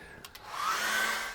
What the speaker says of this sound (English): What I'm going to do now is dry that off again with a hairdryer.